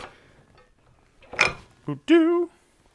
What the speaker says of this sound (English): So, slide the axle out the rest of the way.